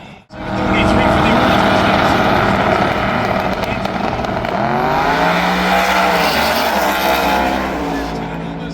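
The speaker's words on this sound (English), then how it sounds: "he'll lead the way to the finish line for Earl" A drag race car roars down the track at a drag racing event, a loud sustained engine howl that rises and shifts pitch as it passes, with an announcer talking over it.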